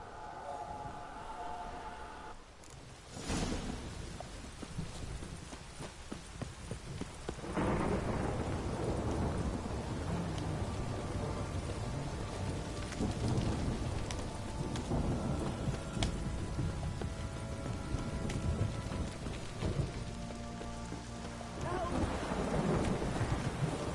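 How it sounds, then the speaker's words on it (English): Heavy rain pours down steadily during a thunderstorm, with loud thunder cracks and rolling rumbles breaking through the constant hiss of the downpour. "This downpour's a bastard, it is."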